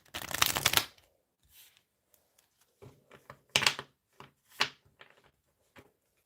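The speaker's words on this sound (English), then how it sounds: "Let's give these cards a shuffle, actually." Tarot cards riffle in a quick flurry, followed by scattered softer shuffles and light taps, close and fairly quiet.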